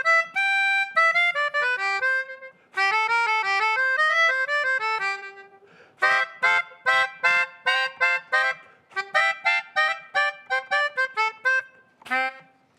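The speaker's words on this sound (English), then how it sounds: "Some people call it a melodica. But it sounds like this." Melodica played in reedy, breathy tones: a few sustained chords and phrases, then a run of short, punchy staccato notes, close and fairly loud with no talking.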